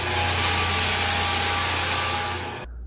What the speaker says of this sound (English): we rented a floor sander, I think it might be called a drum sander, for a weekend, and Chris got to work